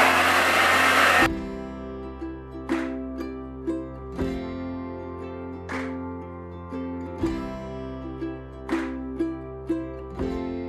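A handheld hair dryer roars loudly at first, then cuts to a lower steady hum while it blow dries natural curly hair, with recurring soft rustling bursts as the hair is moved and handled.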